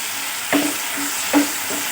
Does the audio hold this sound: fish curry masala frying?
yes